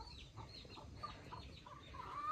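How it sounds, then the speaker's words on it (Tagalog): Chickens clucking in a backyard shelter, a soft run of repeated clucks and low calls at moderate distance, with no talking. "maraming manok kami dyan guys"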